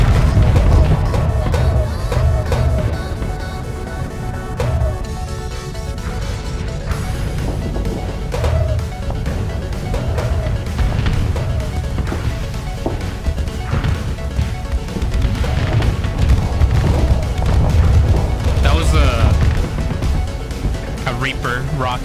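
Rapid crashes, thwacks and booms as Reaper rockets and mining lasers strike ships in the space game Starsector, dense and continuous, with someone talking over the combat.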